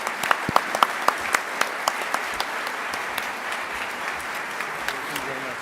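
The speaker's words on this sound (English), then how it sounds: "A big, big thunderous round of applause for all three." Applause at a public education forum, with a few sharp claps up front over a broad, steady wash of clapping from a sizeable crowd that holds at a fairly even level, with some voices mixed in.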